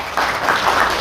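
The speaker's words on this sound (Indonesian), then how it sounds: "Tepuk tangan untuk kita." Audience applause at an Islamic sermon gathering in Asemrowo, a brief burst of many hands clapping at moderate distance, steady and dense through the whole moment.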